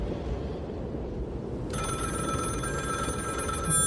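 A telephone rings in the horror game Layers of Fear 2, a steady electronic bell trill starting partway through and continuing over a constant low rumbling ambience, with no talk.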